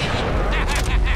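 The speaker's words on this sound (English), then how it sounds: "Oh, I shot a person." A single gunshot in the Family Guy Back to the Multiverse video game, a sharp loud blast with a booming low tail and crackling bursts, close and dense over about a second.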